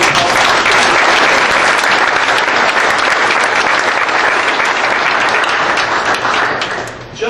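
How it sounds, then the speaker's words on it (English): An audience gives a round of applause at a volunteer organization's event, loud, sustained clapping from a crowd that fades slightly toward the end. "I'd like to give a round of applause and thanks to everyone who helped."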